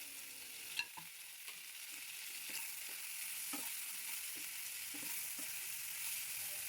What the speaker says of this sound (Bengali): এবার একটা ঢাকনা দিয়ে অল্প আঁচে কিছুক্ষণের জন্য ভেজে নেব।